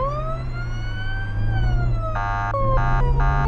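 Ambulance siren from the Flashing Lights emergency-services video game: a loud, continuous wailing tone that rises and falls, then switches to rapid pulsing yelp bursts over a steady low engine drone, with no talking.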